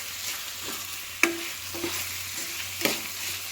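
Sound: chicken gizzards frying in oil

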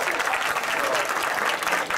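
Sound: audience applauding at a food festival cooking demo

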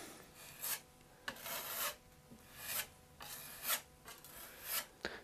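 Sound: spreading wood filler into furniture repair

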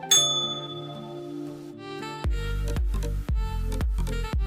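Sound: small bell being rung

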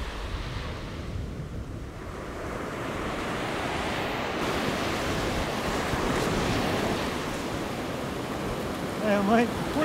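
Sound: ocean waves where river meets ocean

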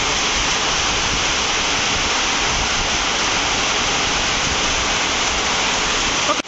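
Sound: heavy rain falling on new house

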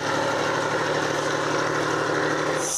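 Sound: tractor engine working a field

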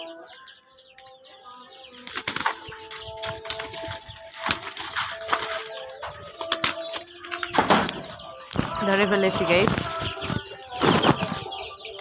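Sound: pigeon flapping its wings while being caught

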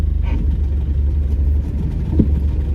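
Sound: car engine while reversing during driving lesson

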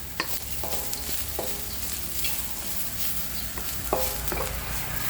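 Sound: stir-frying bamboo shoots with egg

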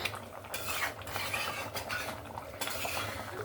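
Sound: fish pieces added and stirred into curry gravy

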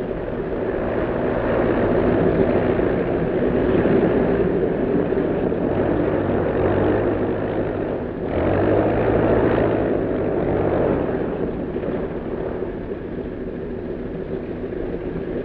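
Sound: propeller plane landing at airport

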